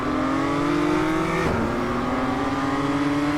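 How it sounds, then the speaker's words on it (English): A BMW M2 Cup race car in iRacing at the race start, its engine droning loud and steady with a pitch that rises gently, briefly dips, then climbs again. "I accidentally accelerate forward a little"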